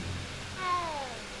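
A black cat in Hogwarts Legacy gives a single short, faint meow over quiet ambient background.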